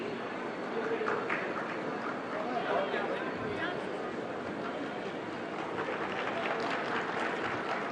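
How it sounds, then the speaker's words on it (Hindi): A crowd applauds to welcome a Chief Minister at an ambulance service launch event, steady mid-level clapping under a murmur of chatter and indistinct voices throughout. "तालियों से स्वागत, अभिनंदन माननीय मुख्यमंत्री जी का।"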